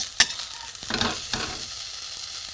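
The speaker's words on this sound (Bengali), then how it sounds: "তেল দিয়ে দিয়েছি এবার আমি এই মাছের তেলগুলো বন্ধুরা দিয়ে দেবো" Fish fat drops into hot oil in a pan and sizzles, starting with a sharp clink, followed by a few bursts of frying hiss and stirring that fade into a low, steady crackle.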